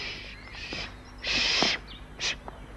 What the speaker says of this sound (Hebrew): הציפורים כבר שרות?